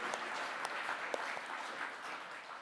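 An audience at a student literary awards ceremony gives a round of applause, soft, continuous scattered clapping heard from some distance, steady for a couple of seconds.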